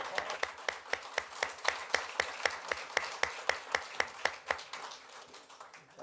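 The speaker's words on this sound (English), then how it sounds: "We'll give them a round of applause." Applause at a city council meeting: a small group of clappers gives a slow, even, distinct series of claps that trails off toward the end.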